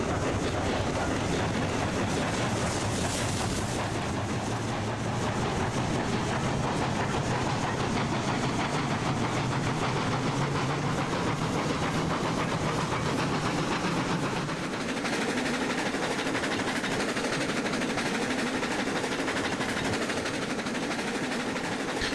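A train running on rails in the video game Railroads Online on the Lake Valley map, a continuous loud rumble with rattling wheel noise that stays steady throughout, no talking.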